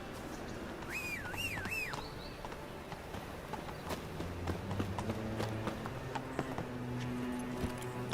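Hooves of Roach, the horse in The Witcher 3, clip-clopping at a steady walking rhythm, moderately close, along with a brief whistle near the start and quiet ambient game sounds.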